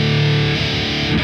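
Heavily distorted electric guitar played through a Fortin NATAS pedal into a Marshall JCM-2000 amp, a loud, full-ranged sustained chord ringing out alone and then shifting briefly near the end.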